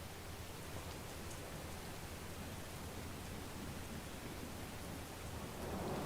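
Continuous broadband rain hiss fills the scene in the Farming Simulator 19 game, steady and dense with no talk, swelling slightly louder at the very end.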